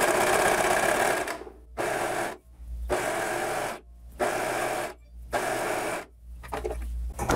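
A sewing machine stitches a folded strip of tulle in several loud, fast whirring runs separated by short pauses, close up with no talk.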